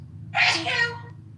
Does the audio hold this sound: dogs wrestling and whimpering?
no